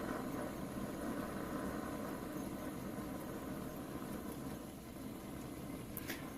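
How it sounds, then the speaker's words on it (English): A propane-fired, water-cooled Stirling engine ticking over quietly after warming up, giving a low, steady mechanical hum and faint rhythmic running with a soft background hiss. "You can hear how quiet the engine is."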